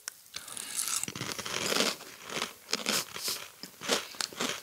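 Close, crisp crunching of CinnaGraham Toast Crunch cereal being chewed, with irregular bursts of bites and crackles going on steadily without talk.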